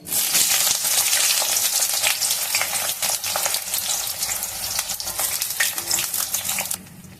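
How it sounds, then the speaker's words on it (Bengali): Eggplant sizzles vigorously in hot oil in a kadai, a loud, steady crackling fry with occasional stirring clinks, no voices over it. "প্রথমে আমি বেগুনটা ভেজে নেব।"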